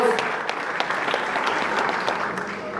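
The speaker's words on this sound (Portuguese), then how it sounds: "Uma salva de palmas para a galera muito prestigiando aí o nosso evento." An audience at the Faisão de Ouro 2018 awards ceremony gives a dense, sustained round of applause at steady volume, with crisp claps throughout and no clear talking.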